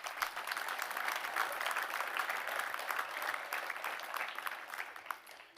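Steady applause from an audience at a mayor's New Year's greetings ceremony, dense even clapping sustained for several seconds with no talk over it, tapering slightly at the end.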